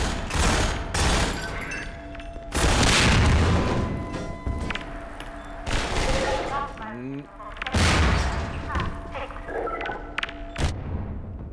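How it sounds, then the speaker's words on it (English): Explosions and bursts of gunfire in the shooter game Half-Life 2, several loud booming blasts and rapid rattling shots erupting close behind, with a voice talking intermittently between them. "Hell just exploded behind me."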